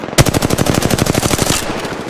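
Automatic gunfire in Apex Legends, a loud rapid burst of evenly spaced shots lasting nearly two seconds, close and alone without talk.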